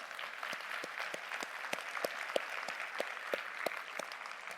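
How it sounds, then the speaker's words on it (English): Audience applause at a National PTA convention, a steady wash of clapping from many hands lasting throughout, moderately distant with no voices standing out. "give Otha another huge round of applause"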